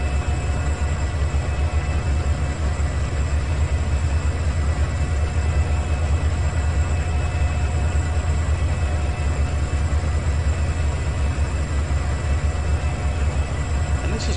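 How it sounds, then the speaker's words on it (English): A heavy CN mixed freight train arriving in the video game Trainz 2019 rumbles steadily with a deep engine drone and faint metallic clatter, continuous and fairly loud throughout. "Harry's coming in on the inbound track now"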